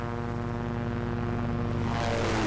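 A helicopter passes overhead in the zombie survival game Project Zomboid, a steady droning rotor hum with a layered engine buzz that swells louder toward the end.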